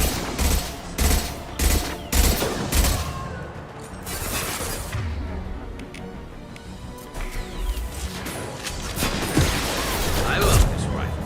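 Rifle fire in Mass Effect 2 rings out as loud, evenly spaced shots in the opening seconds, then quieter combat noise and a few more reports follow through a busy sci-fi battle.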